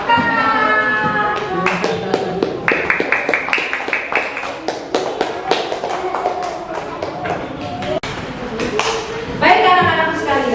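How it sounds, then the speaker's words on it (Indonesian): Schoolchildren in a classroom clap their hands in a rhythmic patterned round of sharp, close claps, with young voices chanting and calling out over the claps throughout. "Tepuk tangan."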